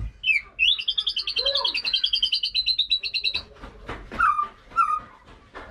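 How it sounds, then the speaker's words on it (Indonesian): Tame magpie robin singing during its tail molt, a near, loud run of rapid repeated whistled notes followed by shorter chirps and scratchy calls, with no talk. "burung ini tetap hariannya itu rajin ngeplong"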